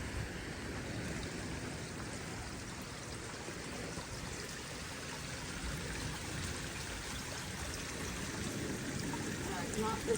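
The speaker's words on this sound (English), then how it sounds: "You can see that water draining off." Rainwater from a big storm drains off rocks near sea caves on the coast, a steady close rushing trickle that holds even and constant throughout, with no voices.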